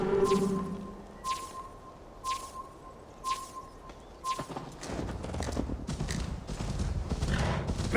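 A horse's hooves clop while riding in the video game Assassin's Creed Valhalla. Soft chiming tones come first, then a quick, steady, close hoofbeat rhythm builds through the second half.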